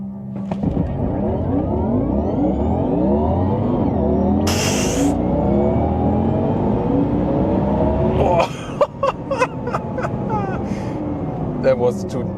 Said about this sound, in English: Alright, now Taycan Turbo GT, launch control.